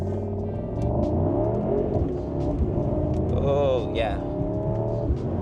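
Mercedes-AMG GT 63 pulling away from a start on a wet road, a deep engine rumble building as it accelerates, heard from inside the cabin beneath a person speaking briefly.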